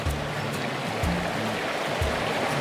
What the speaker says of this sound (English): this is the Chattooga River